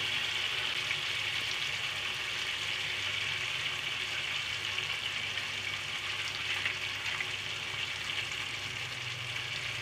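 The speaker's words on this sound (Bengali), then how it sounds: "চার চামচের মতো টক দই দিয়ে দিলাম এখন ভালোভাবে আবার একটু কষাই নিব" Spiced masala with sour yogurt frying in a pan for chicken, a steady continuous sizzle with bubbling hiss held at an even level, close and moderately loud, with no talk.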